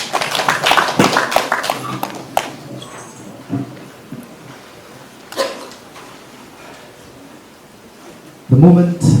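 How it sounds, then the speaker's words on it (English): Audience applause at the African Movie Academy Awards event, with a burst of crowd clapping early on that fades into quieter hall ambience, voices and scattered noises. "Please a round of applause for her."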